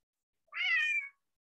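A pet cat gives a single short meow, clear and close, lasting about half a second in an otherwise silent room.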